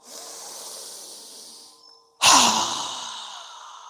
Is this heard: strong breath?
yes